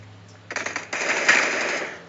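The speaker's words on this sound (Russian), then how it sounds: "Типа все боты прибегают на звук стрельбы, как зомбари." A rapid burst of gunfire in a shooter video game played on a Xiaomi Mi Pad 6 Pro tablet rattles out, then continues as a sustained automatic spray that fades at the end.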